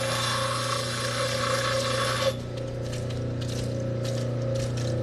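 Broken-in grinding wheel cutting into a large black opal stone, a steady motor hum with bright abrasive grinding that drops away partway through, leaving the motor running with intermittent light scraping contacts.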